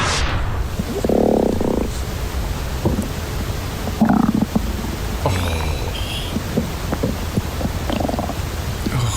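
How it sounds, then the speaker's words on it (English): Loud gurgling stomach rumbles, with long churning growls and squelchy bubbling bursts, close and alone with no talk. "I woke up yesterday morning and I put my phone and started recording my guts. Oh, what rumbling?"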